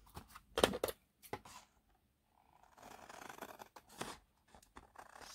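Scissors cut card along score marks in short, crisp snips, a few loud slices early then a longer rasping cut and a final sharp snip, with quiet pauses between.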